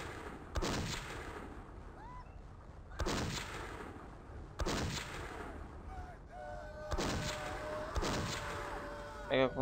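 Four heavy gunshot blasts from the video game Blood at roughly two-second intervals, each with a booming tail, over a quiet background with faint tonal game sounds between shots.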